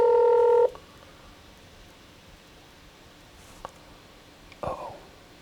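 A telephone ringback tone sounds over a phone line, one loud steady burst that cuts off, followed by quiet line hiss, a faint click and a short rustle as the call waits to be answered.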